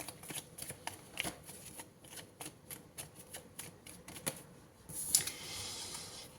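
Tarot cards being shuffled and drawn from a deck, heard as a close, quiet run of rapid riffling clicks and flicks, ending in a brief louder swish.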